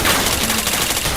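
Continuous rapid gunfire from a first-person shooter video game, loud and dense automatic bursts filling the whole moment without a break.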